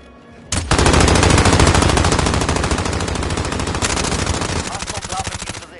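Loud, close machine gun fire in a video game, a sustained rapid burst of several seconds that starts abruptly and fades into a softer tail.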